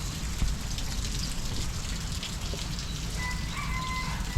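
Steady rain falls on a work site, a dense even hiss of drops striking surfaces throughout, with a few faint tonal sounds in the background.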